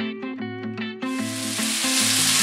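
Vegetables and onion sautéing in a pan for shrimp broth, a steady close sizzle that swells and hisses loudly after a brief stir, with no talking.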